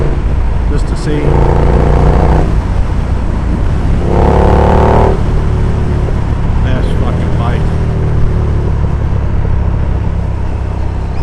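A motorcycle on a test ride, heard from the rider's helmet with untaped vents: loud, constant wind roar with engine notes rising and falling through several rev sweeps.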